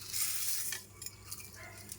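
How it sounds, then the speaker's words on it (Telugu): Vermicelli fries in a little ghee in a pan for kheer, a soft, close sizzle broken by spatula scrapes and light metallic clinks against the pan, with no talking. "ఇప్పుడు మనము సేమియా వేయించేస్తామండి."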